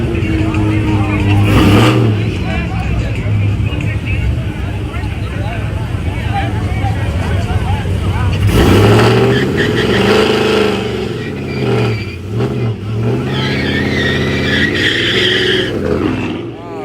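A drag racing car does a burnout at a drag strip, its engine revving hard as the tyres screech and skid in long, loud bursts. People talk over the roar throughout.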